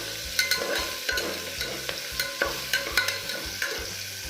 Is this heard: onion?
yes